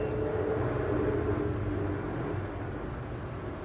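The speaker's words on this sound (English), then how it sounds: "And that's a plane." An airplane passes overhead as a steady, broad low roar, fairly loud at first and easing slightly as it moves on, with no talk over it.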